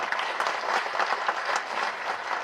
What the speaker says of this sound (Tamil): இந்த நேரத்தில் கருணா சாருக்கு நல்ல மிகப்பெரிய கரகோஷம் கொடுங்க, இந்த அரங்கமே அதிர மாதிரி கொடுங்க